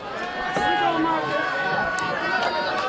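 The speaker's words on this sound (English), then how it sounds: "Good crowd assembled here at Jack Brown Stadium" Crowd at a North Dakota state Class B baseball championship game at Jack Brown Stadium, a steady murmur of chatter and babble filling the stands, with voices talking near and far.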